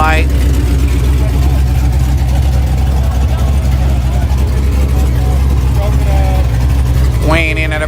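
A nitrous-fed small-block street racing car with a Powerglide transmission idles loudly nearby with a deep, steady rumble, while people talk over it throughout.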